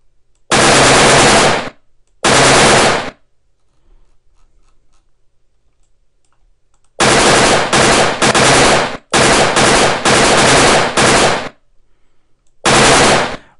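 Loud bursts of rapid automatic gunfire from shooting in a Unity 3D game come in several separate stretches of one to two seconds, with near-silence in between.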